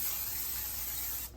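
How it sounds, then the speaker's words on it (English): Cooking spray hisses onto a baking pan in one continuous close burst of a little over a second, then cuts off abruptly. "So we got our pan right here. Go ahead and spray it."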